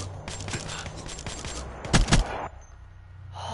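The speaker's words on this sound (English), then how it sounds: "I took so many shots here, Reese." Rapid gunfire rattles in Black Ops 3 multiplayer, with steady automatic bursts giving way to two louder, heavy shots before the shooting stops.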